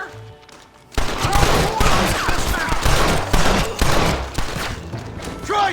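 Dense, loud gunfire in the video game Red Dead Redemption, rapid overlapping shots and booms rattling continuously after a quiet start, with shouting voices mixed into the barrage.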